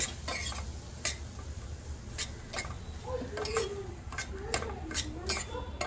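Semolina roasting in a pan, with repeated scraping and clinking stirring strokes over a soft sizzle, and faint voices in the background.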